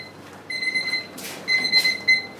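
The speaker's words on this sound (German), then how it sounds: "der Wecker läutet" A kitchen alarm clock in a Viennese restaurant rings in short shrill bursts of high metallic tone, clear and close against a quiet background.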